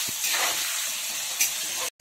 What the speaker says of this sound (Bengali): লবণ হলুদ দিয়ে আলুগুলোকে একটু লাল লাল করে ভেজে নিব।